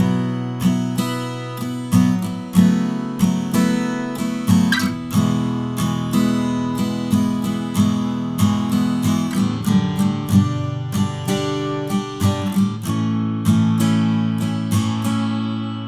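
Acoustic guitar strummed in a steady rhythm through the chorus chords of a song, chords changing every couple of beats, played close and clear with no voice.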